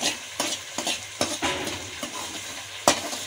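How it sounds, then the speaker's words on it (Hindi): Semolina is stirred and roasted in a wok over a low stove flame, with a soft continuous sizzle broken by repeated scraping strokes of a spoon against the pan. "कढ़ाई को मैंने फ्लेम पे रखा है चूल्हे पे और इसमें मैं सूजी डाल रही हूँ। इसको हम अच्छी तरह से जो है वो भून लेंगे"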